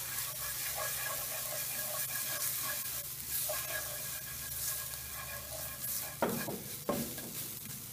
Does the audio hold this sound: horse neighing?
no